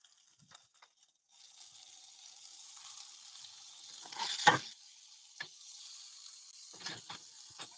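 Onions sauteing in a pan, a faint steady sizzle that begins after a second and runs on, broken by a louder clatter midway and a few light taps and stirring knocks.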